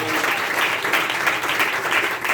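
A church congregation claps loudly together, a thick continuous burst of applause close by and lasting throughout, with slight voices mixed in.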